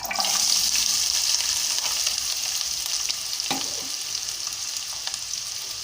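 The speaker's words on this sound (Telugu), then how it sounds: "ఇప్పుడు మనం కట్ చేసుకున్న ఉల్లిపాయల ముక్కలు అలాగే పచ్చిమిరపకాయ ముక్కలు వేస్తున్నాను" Chopped onions and green chillies hitting hot peanut oil in a pan, a strong close sizzle that eases slightly as it settles, with a faint clink partway through.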